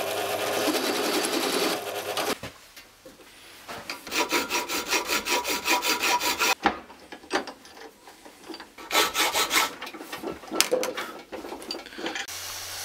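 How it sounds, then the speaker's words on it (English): Metal nuts for a helmet are sanded round, giving bursts of rapid, buzzing abrasive grinding broken by short pauses and quieter scraping, close and loud, with no speech. "I decided just to sand them down round instead"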